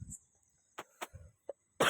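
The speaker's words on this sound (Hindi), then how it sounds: "अभी खांसी बहुत है" A person coughing outdoors during light rain, several short separate bursts, close and fairly loud, with no talk over them.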